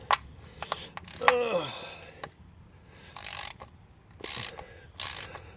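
A ratchet with an 11 mm socket loosens the transmission plug on a 2013–2016 Ford Escape 2.0L AWD, giving several close, loud bursts of rapid clicking separated by pauses, with a brief squeak early on.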